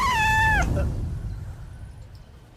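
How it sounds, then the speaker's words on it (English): A single drawn-out, clear meow from a cat in a Minecraft game, falling off at the end and followed by quiet background. "Hello, cat."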